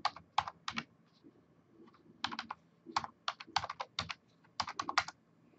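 Bursts of quick computer-keyboard keystrokes come in clusters separated by short pauses, crisp and close against a faint background hum, with no talking.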